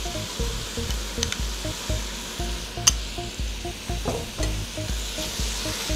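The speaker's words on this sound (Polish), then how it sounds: "Wszystko dobrze mieszamy." Fried vegetables with three spoonfuls of tomato concentrate are stirred in a pan, giving steady, close sizzling with rhythmic scraping strokes of the spoon against the bottom, and no talking.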